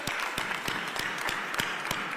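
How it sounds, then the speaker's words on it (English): Applause from an audience at a Philadelphia Super Bowl parade announcement event, a steady wash of clapping with a few louder claps standing out, close and continuous. "Give a huge round of applause here."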